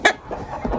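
A rooster clucks in a short burst while being held by the wings and walked forward, the call close and fairly loud, followed by softer rustling.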